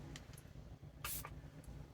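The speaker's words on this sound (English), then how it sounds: "I'm going to spray this because it is a shimmer." Shimmer makeup setting spray misted from a pump bottle in a quick burst, then a shorter second puff, close and fairly loud over a low steady hum.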